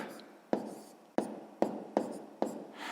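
Pen on paper writing numbers by hand during a sixth-grade math exercise, heard as five sharp, close scratching strokes in an irregular rhythm in a quiet room.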